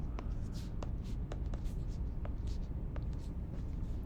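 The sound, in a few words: drawing on a board during a topology lecture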